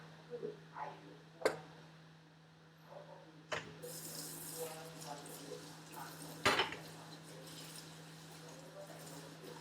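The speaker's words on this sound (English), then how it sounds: "So I continue to stir." A spoon knocks against a bowl while chocolate is stirred into cream, giving a few sharp clinks over soft scraping and a steady background hum.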